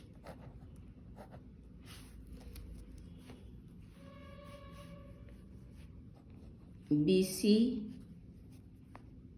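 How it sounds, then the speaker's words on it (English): A pen scratches across paper while a math problem is solved, with short, soft strokes running under a speaking voice. "the given thing we write in short over here"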